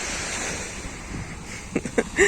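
Gentle sea waves wash onto a beach at Cape Verde on a foggy day, a steady broadband surf hiss with some wind noise and a few small splashing bursts near the end.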